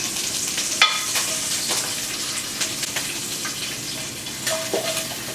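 Bacon fries in a pan with a steady crackling sizzle, and scattered pops and scraping clinks run throughout.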